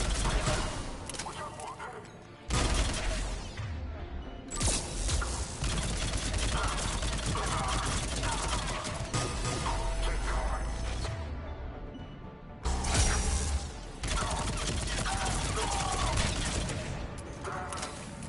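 Gunfire in the shooter game Mass Effect 3, sustained dense bursts of weapon fire with brief pauses, loud and continuous across the stretch, with a voice talking over it at times.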